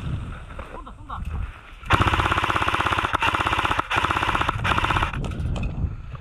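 An airsoft sniper rifle, an AWP-style bolt-action L96 AWS copy, fires during a game. A sustained, rapid mechanical rattle follows short exchanges of voices, with a clattering burst running several seconds close to the mic.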